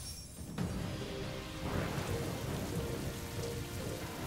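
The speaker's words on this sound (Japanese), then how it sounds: "雨が降ってる。" Rain falls in the video game Samurai Warriors 4, a steady, even hiss that starts abruptly and continues alone at moderate volume, with a faint low rumble beneath.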